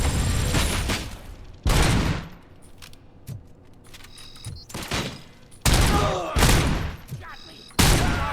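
Loud, close gunfire in the video game RoboCop: Rogue City, with repeated bursts of rapid shots separated by short gaps and a few quieter pops between the volleys.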